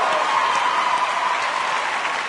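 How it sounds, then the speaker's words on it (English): Audience applause for teachers at a comedy performance, a steady dense wash of clapping holding at full strength throughout with a faint cheer riding over it. "Round of applause for teachers."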